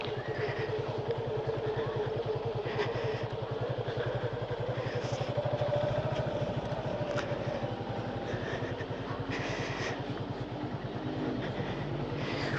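Motorcycle engine idling and running steadily close by during a riding lesson, a continuous even putter with faint rattles, no talk over it.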